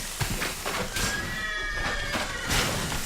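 A horse whinnies once in The Witcher 3: Blood and Wine, a drawn-out, wavering neigh over a busy background of game sounds and noise.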